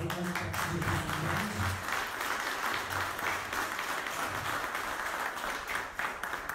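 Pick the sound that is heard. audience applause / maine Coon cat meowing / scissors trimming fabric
audience applause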